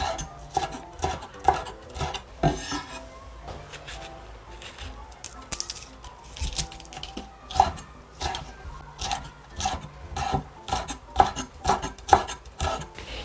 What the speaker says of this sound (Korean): 이거는 이제 길쭉길쭉하게 채 썰어 주시면 됩니다.